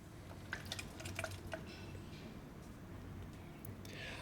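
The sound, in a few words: fuel draining from dirt bike tank through hose into container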